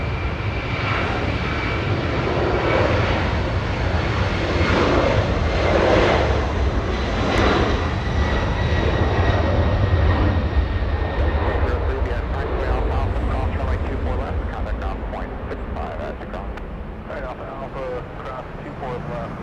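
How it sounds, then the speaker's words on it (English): Delta Boeing 767 jet departing Los Angeles International, its broad engine roar sustained and loud through most of the stretch before easing slightly, with radio talk faintly underneath. "the big 767 getting a move on, flying to JFK International"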